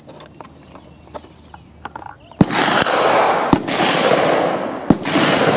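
A Model 1903 Springfield sniper rifle fires reloaded ammunition on an outdoor range. Several sharp, loud reports ring out a second or more apart over a hiss of rushing wind, with faint clicks of handling before the first shot.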